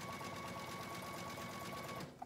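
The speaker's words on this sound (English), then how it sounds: "the zigzag itself is what finishes the edge of the fabric" A sewing machine runs a zigzag stitch along a fabric edge, giving a steady, close mechanical whir with rapid needle rhythm throughout before stopping near the end, with no talk.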